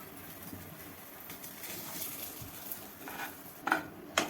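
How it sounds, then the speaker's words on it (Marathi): Cracked wheat stirred and roasted in hot ghee in a pan, with a steady soft scraping and rustling and a couple of sharp utensil clinks near the end, close and fairly quiet. "व्यवस्थित सर्व बाजूनी त्याला हलवायचं आहे आणि व्यवस्थित भाजून घ्यायचं आहे तुपामध्ये."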